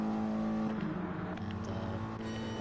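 A Porsche race car in a racing video game drones along the straight, its engine holding a steady pitch with slight shifts as it weaves, heard fairly close without voices.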